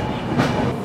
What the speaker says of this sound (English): So that was the arrival of a train